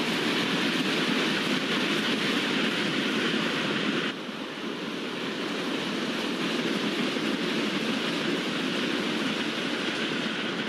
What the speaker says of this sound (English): WDP 4D locomotive which is leading BKN Yeshwantpur Express, which is overtaking our train with a high speed